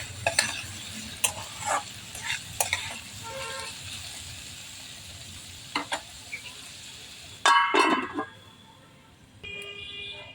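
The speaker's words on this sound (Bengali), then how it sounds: "এবার দেখে নেই সবজিগুলো ভাজা হয়ে গেছে কিনা" Vegetables sizzle softly in a pan for vegetarian pasta while a spatula stirs them, scraping and clattering in short bursts, with a louder rattle near the end.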